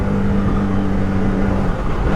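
A Can-Am Maverick R side-by-side runs with a loud, close, steady engine drone and a slight rise in revs, with no voices.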